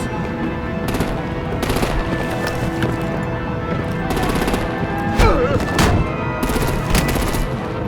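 Sustained rapid gunfire and artillery blasts rattle through a Batman video game battle, with bursts of machine gun fire over a dense, constant roar of combat; a voice may be faintly mixed in.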